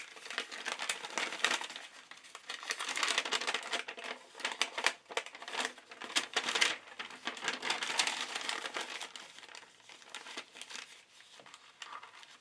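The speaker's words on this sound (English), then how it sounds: "And then we got some coffee stained paper." Coffee-stained paper is handled up close, giving continuous crinkling and rustling with uneven bursts of crumpling, and no one talks.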